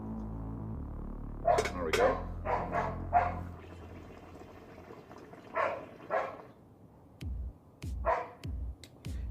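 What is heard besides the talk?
dog barking in the background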